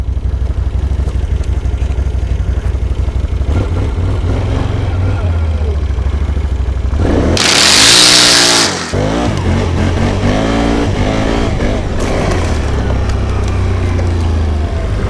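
A 2016 Can-Am Outlander XMR850 ATV engine running loud and close in four-wheel low, holding a rough steady note before revving hard with rising and falling pitch sweeps, then settling back to a throbbing idle.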